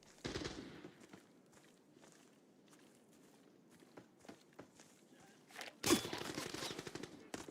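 Bursts of gunfire from a tier-list solo video game match, with rapid shots and running footsteps, a loud close volley near the end, and a quieter stretch of steps and scattered shots in between.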